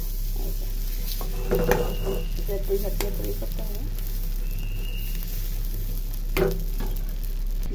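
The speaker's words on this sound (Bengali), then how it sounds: "তো এখান থেকে এক চামচ কাই দিতেছি" A spoonful of batter meets a hot pan and sizzles in a steady, moderately close hiss, with a few faint clinks of utensils and no talking over it.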